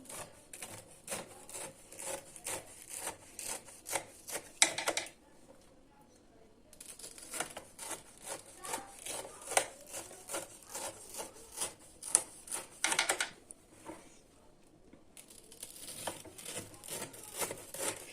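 A knife cuts through crispy baked kadayif dessert in a tray, producing dense rapid crunching and scraping strokes in bursts, close and fairly quiet, with short pauses between passes.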